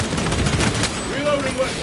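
Rapid bolter gunfire in the video game Space Marine, a loud, close, continuous hammering stream of shots, with a voice calling out over it.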